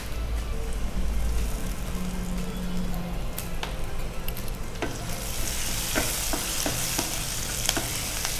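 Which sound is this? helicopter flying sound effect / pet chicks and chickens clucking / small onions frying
small onions frying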